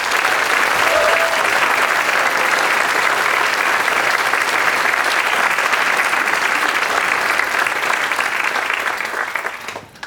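Sustained, even applause from an audience after a film screening and panel, loud and continuous for about nine seconds before tapering off at the end.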